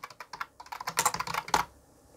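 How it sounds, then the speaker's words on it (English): Rapid clicky typing on a computer keyboard, including numeric keypad presses, close and moderately loud, a flurry of keystrokes that stops near the end, with no talking. "now I'm pressing 2 on the numeric keyboard"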